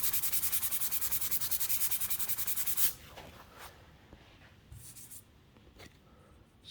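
Filler on a painted external door gets a light hand sanding, with rapid, rhythmic rubbing strokes for about three seconds, then stopping, followed by quiet scattered scuffs and handling noises.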